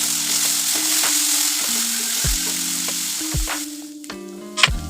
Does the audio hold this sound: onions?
yes